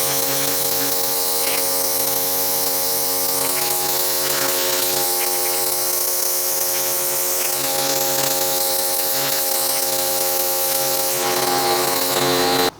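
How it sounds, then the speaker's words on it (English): A V-Tuf V1 pressure washer sprays steadily, its motor and pump giving a continuous loud buzzing whine that holds nearly unchanged from start to finish with no speech. "So this is one of my other pressure washers"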